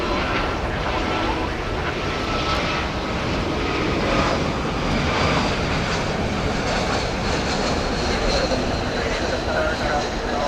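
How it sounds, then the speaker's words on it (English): A Frontier Airlines Airbus A321neo rumbles steadily at DFW at night, a continuous broad engine roar at moderate level with talk underneath. "It's an Airbus A321neo, and on the tail, Honey the Badger."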